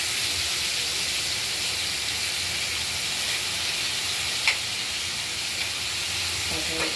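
Boal fish frying in hot oil gives a steady, bright sizzling hiss that continues evenly throughout, with a few faint clinks near the end.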